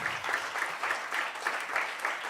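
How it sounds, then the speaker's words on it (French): A conference audience in a hall applauds the speaker Justine, steady rhythmic clapping at moderate distance that carries on evenly without talk. "On peut l'applaudir."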